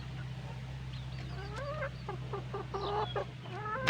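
A Lemon Sweater gamefowl rooster gives a run of short, close clucks and rising calls over a low steady hum, with no talk.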